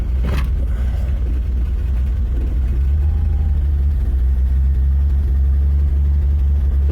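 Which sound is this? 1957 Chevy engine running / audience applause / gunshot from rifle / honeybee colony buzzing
1957 Chevy engine running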